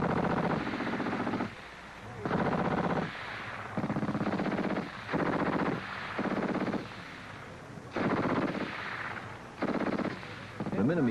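Minimi light machine guns firing in repeated sustained bursts, each roughly a second long with short pauses between, loud and close, with the bursts coming in a steady on-off rhythm.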